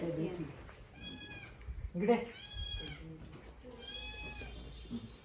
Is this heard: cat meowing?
yes